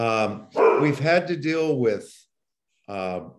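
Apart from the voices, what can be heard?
dog barking in the background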